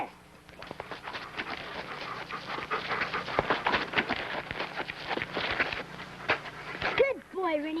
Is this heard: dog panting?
yes